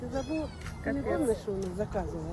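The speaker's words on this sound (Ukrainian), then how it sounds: "Це кіт? Це нам привезли кошенець." A kitten meows several times in short, rising and falling cries, close by and partly overlapping a person talking.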